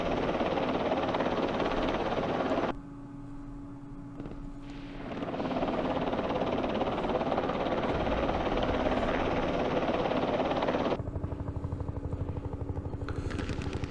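Helicopters in a Vietnam War strategy game about Lam Son 719 whir steadily as a continuous loud rotor drone that dips briefly before returning at full strength.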